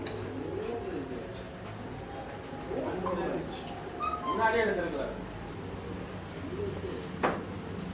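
Racing pigeons of mixed breeding, in a loft among fanciers, give soft cooing calls a few times under ongoing men's conversation, with a brief knock near the end.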